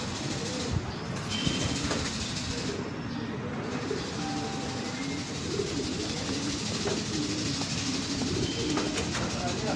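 Racing pigeons arriving one after another at a loft, with soft cooing and fluttering over a steady outdoor background, a few faint sharp knocks, and no clear talk.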